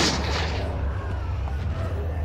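Gunfire from a weak gun in the video game Eternal Darkness, a loud, close booming shot at the start that decays into rumble and trailing noise.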